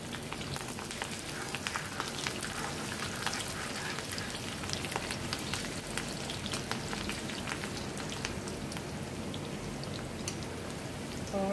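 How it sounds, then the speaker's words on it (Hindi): Coarsely cut onion shallow-fries in mustard oil, giving a steady crackling sizzle with scattered sharp pops that keeps up throughout at a moderate level, with no talking. "सरसों का तेल लिया है और मोटा कटा हुआ प्याज था। इसको भी मैं सैलो फ्राई करूँगी"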